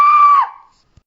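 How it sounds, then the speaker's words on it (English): A single blood-curdling scream, piercing and close, held for about half a second before trailing off into silence. "Don let out a blood-curdling scream."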